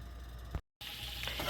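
Steady, crackling sizzle of butter in a hot frying pan, close and continuous, with a brief cut to silence partway through before the frying resumes.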